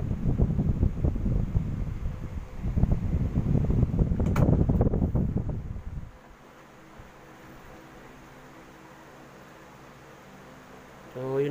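An electric fan running after its motor was lubricated, giving a steady, close broadband whir for about six seconds before dropping to a much quieter hum with faint tonal lines.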